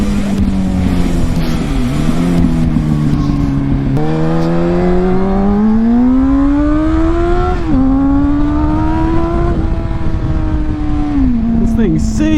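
A roughly 20-year-old Honda Hornet motorcycle engine runs loud and close, its pitch climbing and dipping as it revs up in several rising pulls with brief drops between them.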